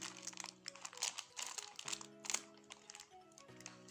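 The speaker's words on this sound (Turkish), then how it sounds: "Evet uzunca bantımı kestim ve artık yapıştırıyorum." Adhesive tape is cut and pressed onto a handmade water-filled unicorn notebook cover, giving quiet crinkling and crackling bursts over soft background music.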